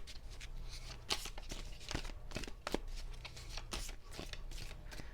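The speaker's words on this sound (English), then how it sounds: "One more shuffle." Tarot cards are shuffled by hand close up, a quiet run of papery riffles and soft slaps in an irregular rhythm.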